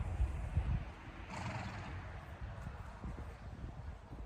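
Horse standing at a step-up box in outdoor training, shifting with low hoof thuds and rustling, a brief whinny-like burst midway, wind noise throughout.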